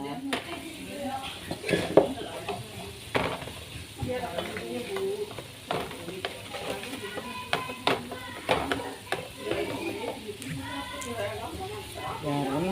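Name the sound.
Betawi sour spicy beef stew simmering in a pan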